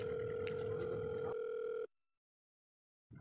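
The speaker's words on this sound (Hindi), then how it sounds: "अबे फोन किसका आ गया" A phone rings with a steady electronic tone for almost two seconds, then cuts off into silence before a faint sound returns at the end.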